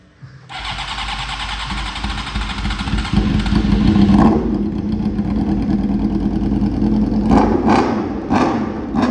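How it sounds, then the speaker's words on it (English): A Suzuki Gixxer motorcycle engine running with its exhaust removed, loud and close, a raw rumbling idle that rises into a harsher rev around the middle and then settles, with a few sharper blips toward the end. "me and Ryan took the exhaust off the Gixxer, and obviously we had to start it up"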